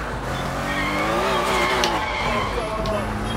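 A stolen car in the Sleeping Dogs video game accelerates with a rising engine whine, then its tires squeal and skid briefly before the motor settles into a steady drone.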